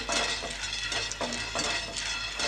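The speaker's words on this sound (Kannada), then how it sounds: "ಶೇಂಗಾ ಬೀಜನ ಒಂದು ಸ್ವಲ್ಪ ಫ್ರೈ ಮಾಡ್ಕೊಳ್ತೀನಿ" Peanuts are stirred as they fry in a pan, giving close, repeated rattles and scrapes of nuts and utensil against metal over a faint sizzle, with no talking.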